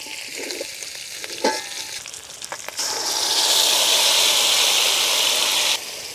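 Hilsa fish fries in a pan and is stirred into taro greens in a village kitchen, with clinks and scraping before a louder, steady sizzle swells and then drops away.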